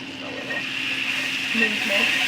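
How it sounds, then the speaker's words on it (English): Garlic sizzles in melted butter in a skillet, a steady close hiss with a voice talking faintly underneath. "When it's melting, I'm going to add in some garlic."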